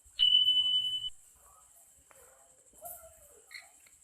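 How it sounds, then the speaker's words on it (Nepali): Touching a multimeter probe to the positive and negative terminals of a dead VIPPO phone's battery sets off a single clear, steady continuity beep lasting about a second, showing a short circuit, followed by faint handling sounds. "बिप बजिरहेछ।"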